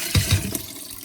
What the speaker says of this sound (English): take this seaweed water from earlier and you're gonna pour it